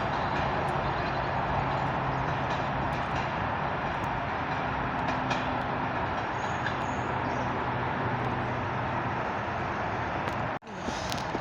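A freight train rolls past a station on the West Coast Main Line near Bescot, a continuous loud rumble and rattle of wagons lasting throughout, with a sharp break near the end.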